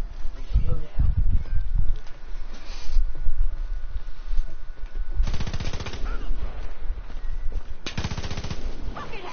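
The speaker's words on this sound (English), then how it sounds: "Our teammate is shooting at another teammate" Teammates fire rapid machine-gun bursts in the video game Far Cry 5, the rattling volleys arriving in several loud stretches with voices talking underneath.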